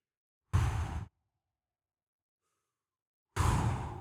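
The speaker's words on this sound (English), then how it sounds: "So we're doing some deep breaths." Two deep breaths during a breathing exercise, each a soft, airy exhale about half a second long, with a quiet pause of several seconds between them.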